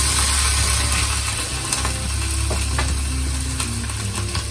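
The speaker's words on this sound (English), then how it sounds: "and just give it a quick stir." A spoon stirs hing, ginger and chopped green chilli in a hot pan, giving a steady sizzle with scraping, clicking strokes close by.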